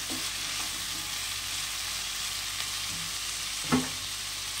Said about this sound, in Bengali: 4টে কাঁচা লঙ্কা দিয়ে দিলাম চিড়ে।